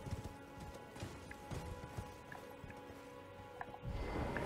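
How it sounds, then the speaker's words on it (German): A horse gallops uphill in the Elden Ring video game, its hooves giving a steady run of clip-clop footfalls at moderate loudness over a low ambient game soundscape, with no talk. "Deswegen reiten wir jetzt hier hoch."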